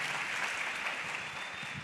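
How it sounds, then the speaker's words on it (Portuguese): A church conference crowd applauds in praise to Jesus, a dense, steady wash of many hands clapping at close range without letup, with no clear voice over it. "Vamos aplaudir Jesus por eles?"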